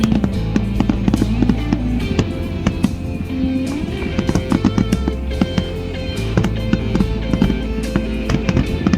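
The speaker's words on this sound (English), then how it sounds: "waited for the sun to go down and the fireworks to start" Dense, continuous fireworks with rapid overlapping bangs and crackles, loud and sustained throughout, no voices.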